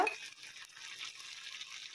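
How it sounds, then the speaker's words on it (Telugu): Tempering spices frying in two tablespoons of oil, meant for a pumpkin vadiyalu tomato chutney, give a quiet, steady high sizzle with faint stirring. The sound runs alone without talk. "అందులో మళ్ళీ 2 టేబుల్ స్పూన్ ఆయిల్ వేసుకొని దీంట్లో తాలింపు దినుసులు వేసుకుందాం. ఇవి ఫ్రై అయ్యాక"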